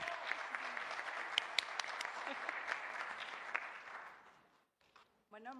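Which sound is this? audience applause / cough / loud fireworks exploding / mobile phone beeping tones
audience applause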